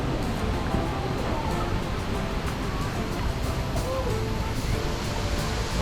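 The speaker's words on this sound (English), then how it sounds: "Oh, we are approaching the waterfall." Steady, dense rushing roar of water at Düden waterfall in Antalya, Turkey, heard from close by as a continuous wash of noise with faint voices underneath.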